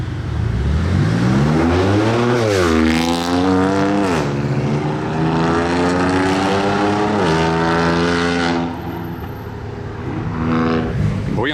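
A loud, modified BMW M4 GT4 roars past, its exhaust note rising and falling through several rev swells, with a low, harsh drone that fills the whole stretch.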